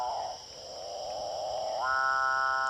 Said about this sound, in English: That's a capuchin bird.